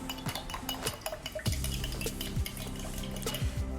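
Spoon stirring strawberry flavoring into a large glass of iced tea, giving a continuous clinking and scraping of metal against the cup with ice rattling, close and steady with no voices.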